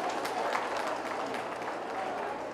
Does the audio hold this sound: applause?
yes